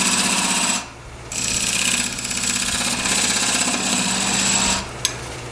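A wood lathe turns a square cottonwood burl while a point tool cuts a tenon, giving a steady, loud whirring hum with a brief lull near the start and a small tap near the end.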